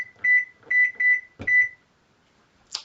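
A kitchen timer being set for 15 minutes while muffins rest on the counter, giving a string of short, bright electronic beeps in quick bursts, then a pause and one last faint chirp.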